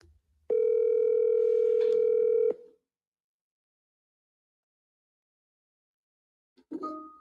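A telephone call tone sounds as a single steady two-second tone, followed by silence and then a brief faint ring-like burst at the end.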